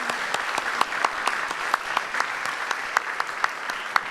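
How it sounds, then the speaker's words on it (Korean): At a 2018 government strategy meeting with the South Korean president, a room full of attendees gives dense, continuous applause at an even level throughout. "큰 박수 부탁드리겠습니다."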